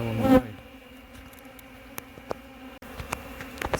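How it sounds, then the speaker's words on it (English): Honeybees buzzing around a hive, a loud close pass at the start, then a softer background hum with scattered brief buzzes of individual bees flying past. "We've got bees robbing any drop of spilled honey."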